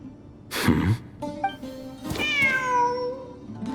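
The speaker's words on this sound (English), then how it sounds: "The cat!" Close, clear cat meows from a video game cat in Genshin Impact: a short cry followed by a longer, drawn-out, wavering meow, set against quiet game ambience.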